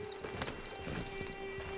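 Horse hooves clip-clop slowly on the ground in Red Dead Redemption 2, soft irregular steps at close range over a faint steady hum.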